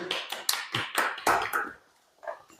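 A small group claps hands during an osteoporosis exercise session, about ten sharp, close claps in an uneven burst that stops abruptly, followed by a couple of faint taps.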